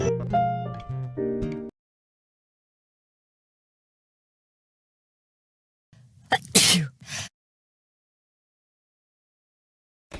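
A cartoon-style sneeze sounds twice, first as a loud tonal burst that cuts off into silence, then, after a long quiet gap, a second short, sharp, breathy sneeze.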